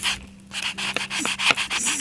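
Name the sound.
sanding a sticker for a craft journal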